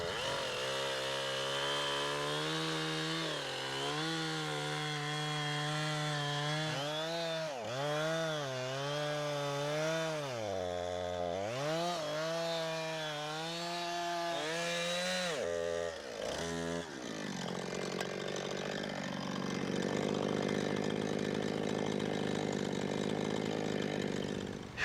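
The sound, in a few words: chainsaw cutting hay in garden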